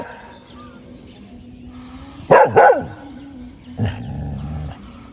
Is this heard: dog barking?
yes